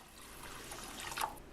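Water is poured into a soup pot over a bag of lentils while making lentil soup, a faint steady splashing trickle that swells slightly toward the end, with no voices.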